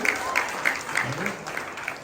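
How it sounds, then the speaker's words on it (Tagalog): A church congregation claps in praise during a Filipino worship service, a fairly soft, rhythmic clapping at a steady beat of about three claps per second, with talk mixed in. "Mukhang mahina po yung palakpak natin."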